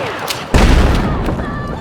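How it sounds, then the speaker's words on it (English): A rocket explosion in Battlefield 6 lands as a sudden loud boom that rolls into a rumbling tail, with scattered gunfire around it. "I saw the rocket go there"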